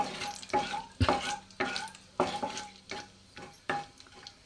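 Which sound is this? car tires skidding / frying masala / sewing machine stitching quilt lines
frying masala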